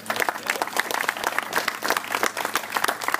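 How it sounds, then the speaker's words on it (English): Audience applause for a tech committee chair at a turbocharged car club gathering, dense steady clapping from many hands lasting a few seconds, fairly close and full. "We get a round of applause for Steve."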